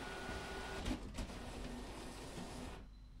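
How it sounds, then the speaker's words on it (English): A printer in a point-and-click adventure game runs out a ticket with a steady mechanical whirr, two brief clunks early on, then stops abruptly near the end. "I'll send the modified picture to the printer."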